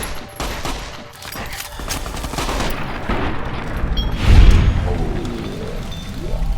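Gunfire in Fallout: New Vegas, a rapid volley of shots and booming impacts layered over a dark, rumbling game soundscape, loud and sustained with a heavier blast near the middle.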